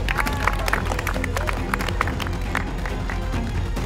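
Audience applause rises after a team result is announced, a continuous mix of clapping and crowd noise with scattered voices, steady and fairly loud throughout.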